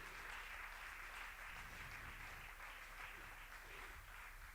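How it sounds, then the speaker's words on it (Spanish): Sustained applause from a church congregation during a Sunday morning service, a steady dense wash of clapping with no pauses, fairly loud and even throughout. "Dale fuerte el aplauso al Señor en esta mañana."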